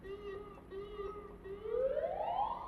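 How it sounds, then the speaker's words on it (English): A distant ambulance siren wails faintly, its tone rising and sweeping upward toward the end over a low background hum. "You guys hear that ambulance?"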